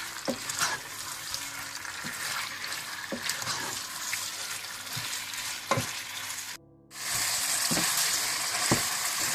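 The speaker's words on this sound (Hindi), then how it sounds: "इसका पानी ड्राई करके आप इसे अच्छी तरह से भून लें" Chicken frying in a pot, sizzling steadily while a spoon stirs and scrapes at intervals, close and clear with a brief drop to near silence before the sizzle returns louder.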